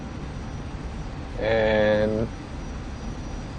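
An F-86F Sabre jet engine drones steadily on a landing approach in the DCS flight simulator, a constant broadband rumble under a man's brief spoken word.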